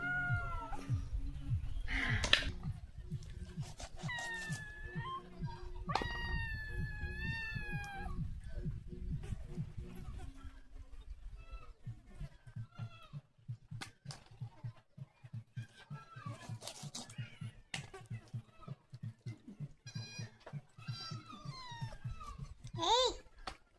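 A cat meows repeatedly at close range, with rising and falling calls and some whining caterwauls, a low steady hum beneath and brief voices now and then.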